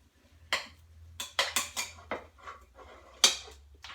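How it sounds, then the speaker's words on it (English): A spoon stirs mustard into mashed cauliflower inside an Instant Pot, giving a handful of close metallic clinks and scrapes against the pot with short gaps between. "now I'm just going to give it a stir"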